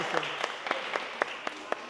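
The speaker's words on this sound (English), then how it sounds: "Oh, mama, clap for her, clap for her." Sparse rhythmic clapping for a child, roughly eight distinct claps spaced evenly under a murmur of background voices and chatter.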